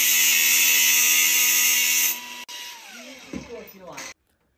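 A long aluminium-cabinet fixing screw being cut down by about 2 cm with a power tool, a steady loud high-pitched grinding whine for about two seconds, then a lower rattling wind-down before stopping.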